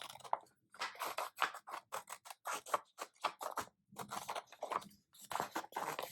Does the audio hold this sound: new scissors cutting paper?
yes